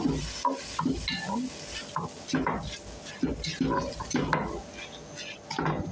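Rice being stirred in a pot while cooking, with repeated scraping and clinking of a utensil against the pan over a soft sizzle, loud and close, with talking in between.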